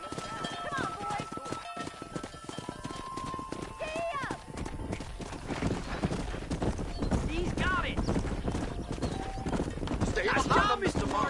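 Horses gallop in Red Dead Redemption 2, a steady clip-clop of hooves with a few whinnies under frequent shouting voices and background game music.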